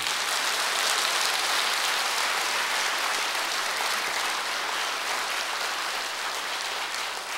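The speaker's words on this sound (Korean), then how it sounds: "우리 영광의 박수를 보내겠습니다" A large audience at a church seminar gives long, sustained applause, an even, hissing wash of many hands clapping that holds steady for over seven seconds, with no voices.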